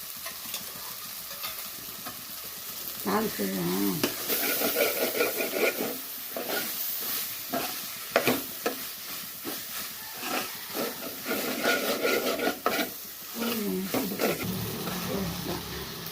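Ginger garlic paste sizzles and hisses steadily in a hot pan as a utensil stirs and scrapes, with occasional voices murmuring in the background.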